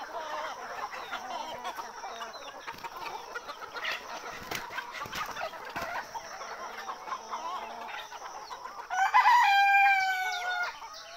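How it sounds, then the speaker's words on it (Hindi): Chickens cluck and squabble nearby on a poultry farm over steady farmyard noise, then a rooster crows loudly near the end. "देखिए ये मुर्गियाँ कैसे लड़ रहे हैं दोस्तों।"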